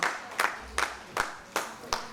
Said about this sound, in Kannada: ಸ್ಮೈಲ್ ಶಿವು ಅವ್ರಿಗೂ ಕೂಡ ಜೋರಾದ ಚಪ್ಪಾಳೆ ಬರಲಿ ಅಂತ ಕೇಳ್ಕೊತಾನೆ.